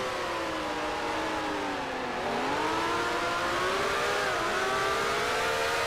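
A 1965 Formula One car engine in the GPL racing video game howls at a continuous high pitch, dipping briefly and then climbing again as it nears top speed, loud and alone.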